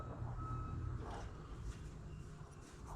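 A delivery truck reverses with faint, repeated warning beeps heard at a distance over a low rumbling engine and background noise.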